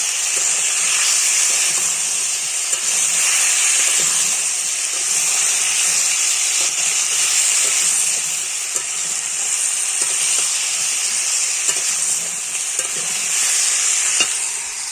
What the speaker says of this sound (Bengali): হলুদ আর নুন দিয়ে দেবো ভালো করে কষিয়ে নেব